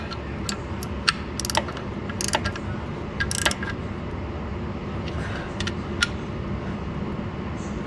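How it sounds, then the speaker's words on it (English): A ratchet snugging down an engine mount bolt on a burnout car, with quick irregular bursts of sharp clicking over a low steady background hum, close by and without talk. "did I bring my ratchet? Yes, I did. I'm gonna snug that down real quick."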